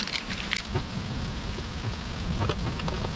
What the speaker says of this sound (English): it is actually thunderstorming out really good right now